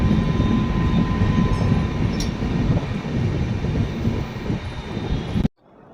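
A Rajdhani Express train at Okhla, on the Bengaluru to Nizamuddin run, gives off a steady low rumble and hum close by, with a faint whine above it, before the sound cuts off abruptly near the end.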